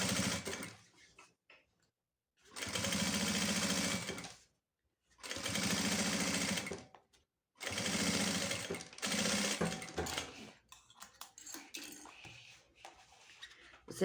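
A sewing machine stitches bias binding onto a toiletry bag in several loud bursts of rapid whirring, separated by silent pauses, then gives way to softer handling clatter near the end.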